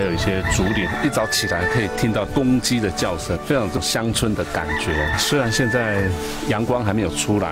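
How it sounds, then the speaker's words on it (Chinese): Roosters crow and hens cluck at dawn in a misty, tea-farming mountain village, ringing out repeatedly under steady narration. "一早起来可以听到公鸡的叫声，非常乡村的感觉。"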